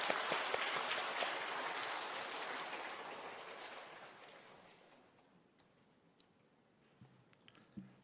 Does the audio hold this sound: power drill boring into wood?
no